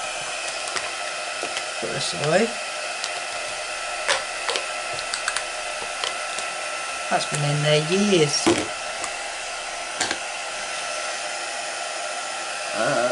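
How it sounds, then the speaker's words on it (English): Heat gun blowing hot air at a card-making craft table, a steady loud whooshing hum throughout with brief clicks and handling noises, while someone talks quietly over it. "Right, we'll heat up the heat gun."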